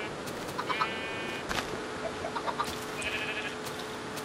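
Sheep bleat in the Minecraft video game, several short bleats spread over a steady background of ambient noise.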